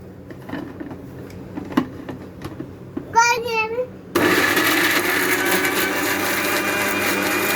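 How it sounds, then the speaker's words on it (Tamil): A mixer grinder whirs loud and steady as it blends tomatoes for rasam, starting suddenly after a voice and scattered kitchen knocks. "நான் தக்காளி கட் பண்ணி மிக்ஸியில் போடணும். அடிக்கணும்."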